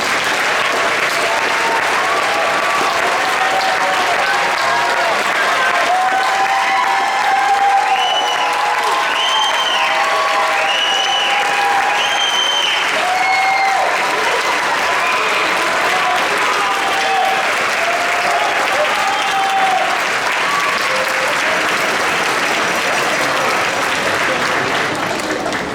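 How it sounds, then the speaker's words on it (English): Long, sustained applause from graduating seniors for their parents at a high school graduation ceremony, a dense wash of many hands clapping steadily throughout, with some faint voices and cheers mixed in. "I'd ask our seniors to please stand and clap, and the parents and guardians of our seniors to please stand and be acknowledged"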